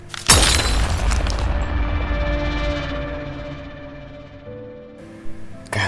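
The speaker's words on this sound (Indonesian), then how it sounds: "kaca pecah seperti bubuk dan menutupi ruang observasi" Glass shattering into fine powder as an audiobook sound effect: a sharp, loud crash bursting out at once, then a long glittering shower of fragments that rings on and slowly fades, with a faint rattle near the end.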